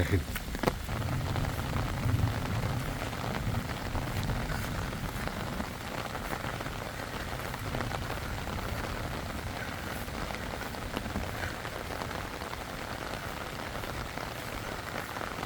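Steady rain falls on surfaces across a village on a rainy day, a dense even patter with close drips throughout, continuous and unbroken.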